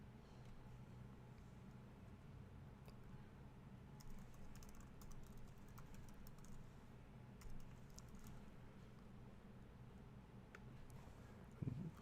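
Keys tapped softly on a computer keyboard while entering a web address in a WordPress menu, faint scattered clicks over a low steady hum, no voices.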